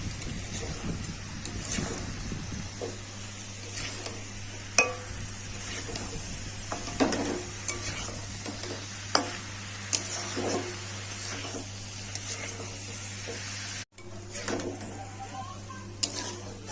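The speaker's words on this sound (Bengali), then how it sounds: "এবার নেড়ে নেবো ভালো করে।" A hilsa fish head is stirred with cabbage in a pan, producing scattered clinks and scrapes of a utensil against metal over a low steady hum, with a brief dropout near the end.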